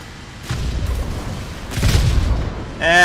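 Rockets fired from an A21RB jet attacker blow up in War Thunder, two dull booming blasts at moderate distance over an engine drone, with a brief sharper burst at the end.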